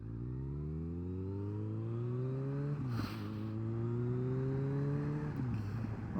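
Kawasaki ZRX motorcycle with a carbureted engine riding along, its engine note climbing steadily through the gears with two brief dips at shifts, loud and close, no talking.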